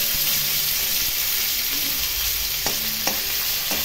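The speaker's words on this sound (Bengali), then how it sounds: "আমি উল্টে দিলাম, অপর পিঠও ঠিক এইভাবে ভেজে নেব।" Rohu fish pieces frying in a pan, a steady close, loud oil sizzle throughout with a few scraping knocks from turning the pieces near the end.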